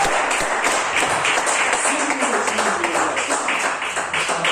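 Church congregation clapping together, a steady dense patter of many hands filling the space, continuous and moderately loud with faint voices underneath.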